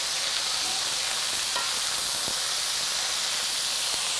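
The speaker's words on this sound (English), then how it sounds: "Give those a stir around." Pork carnitas stirred in a hot pan give a steady, loud sizzle and hiss of frying, with a few soft scrapes of the utensil, close up and with no talking.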